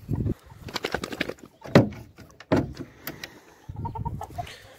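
An old hen, three years old, clucks repeatedly in short, close bursts, with softer scratchy rustling between the calls.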